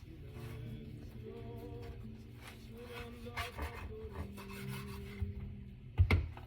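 A knife saws and rasps through wax-wrapped pancetta on a board, chopping it into pieces with irregular scraping strokes and a few sharp knocks near the end.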